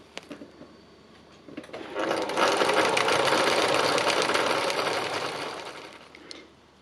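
A sewing machine stitches leaves onto fabric with bright orange thread, running in one sustained whirring burst of several seconds, close and fairly loud, starting and stopping cleanly.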